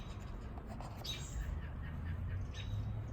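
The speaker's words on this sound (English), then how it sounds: "There's another little bird over here" A few faint, high chirps from a small bird stand out briefly against a steady low outdoor rumble.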